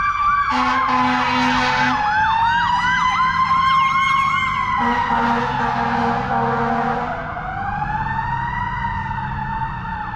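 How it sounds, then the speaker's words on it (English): Wailing sirens rise and fall continuously, several overlapping as fire trucks and ambulances pass close by, loud throughout with a slight fade near the end. "All these fire trucks and ambulances going by"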